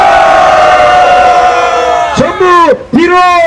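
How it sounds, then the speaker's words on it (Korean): Large crowd at a political rally shouting together in a sustained, loud roar of voices, swelling and breaking into rising cheers toward the end. "함성 5초 시작!"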